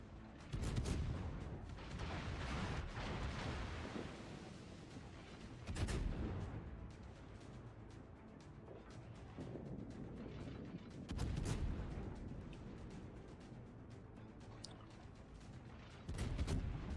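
Naval gunfire in World of Warships: heavy deep salvos boom at regular intervals of roughly five seconds over a low continuous battle rumble, with sharper cracks riding on each blast.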